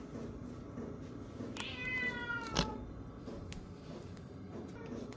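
A cat gives one clear meow partway through, with a brief sharp knock just after, set against faint room noise in a pottery studio where black underglaze work is underway.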